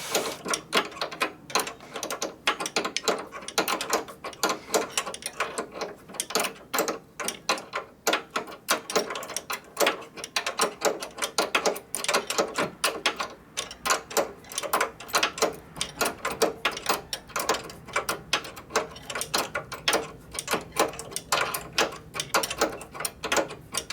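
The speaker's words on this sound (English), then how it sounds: "I'm just turning a wrench." A wrench works on a 1965 Harley-Davidson panhead 74ci FLH motorcycle engine during a rebuild, giving a fast run of close metallic ratcheting clicks and taps in uneven bursts.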